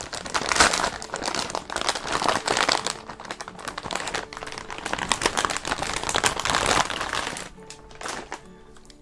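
Protective plastic film being peeled gently off the shroud of a PNY RTX 4080 XLR8 graphics card, a dense, continuous crinkling and crackling that stays close and fairly loud, easing off near the end.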